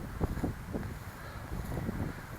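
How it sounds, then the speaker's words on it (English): Gusty wind buffets the microphone outdoors beside a street, a steady low rumble with stronger swells, continuous and close throughout. "This is where the wind's coming from."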